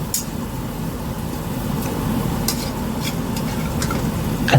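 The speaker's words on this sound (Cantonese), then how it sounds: "咁我哋用鑊鏟將佢兜勻" A spatula stirs scallops and pea shoots in a wok, giving a steady, fairly close scraping and clattering with light sizzle under it, swelling slightly louder at the very end.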